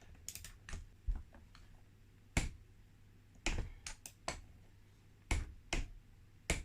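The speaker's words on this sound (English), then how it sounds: "Look at the torque wrench. Clicking it down, it won't move anymore." A torque wrench clicks as it tightens the clutch bolts on a 1983 Honda QR50 during a restoration. Sharp, close clicks and knocks come in irregular bursts, with quiet gaps between them and no talking.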